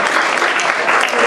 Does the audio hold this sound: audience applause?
yes